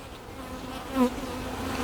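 Honey bees buzz at an open hive with a yellow-marked queen, a dense, steady close hum with one bee droning louder as it passes near.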